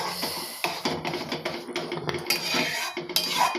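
Chili powder stirred into a pan, a metal spoon clinking and scraping against the pan in a busy, irregular run of close, fairly loud taps with no voices.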